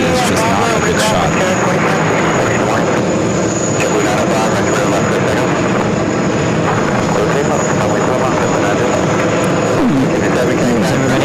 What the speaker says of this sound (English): JetBlue A320 taking off runway 31 left.